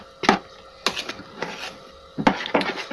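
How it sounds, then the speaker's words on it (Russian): A mixture with sausage being stirred for a quick breakfast with sushki, giving a few separate wooden scrapes and knocks against a bowl, close and fairly loud, with short pauses between strokes and no talking. "Все хорошо перемешиваем."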